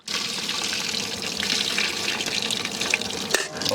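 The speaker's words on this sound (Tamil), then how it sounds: "புளி கரைசல் சேர்த்துக்கலாம்." Tamarind water poured into a cooking brinjal dish, a steady close splashing and gurgling stream that runs for several seconds, ending with a faint clink.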